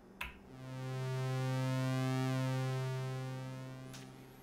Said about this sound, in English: you'll hear the full range from very thin through its square space back to really thin on top